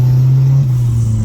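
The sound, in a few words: Opel C20XE turbo Corsa engine revving on dyno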